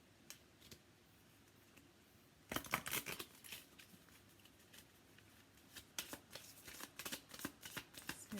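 A small tarot deck is shuffled up close in two quiet bursts of riffling and flicking cards, separated by a brief pause, with soft handling noises in between and no talk.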